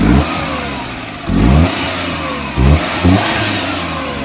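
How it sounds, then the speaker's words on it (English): A stage 2 tuned 796cc inline petrol engine in a Maruti Suzuki 800 revs in short bursts, four sharp throttle blips rising over a raspy idle, close and loud. "the engine sound completely varies from the stock"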